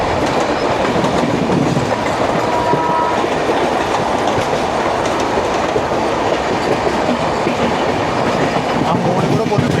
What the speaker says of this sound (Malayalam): അതിൽ കൂടെ ഒരു വന്ദേ ഭാരത് പോകുന്നുണ്ട്.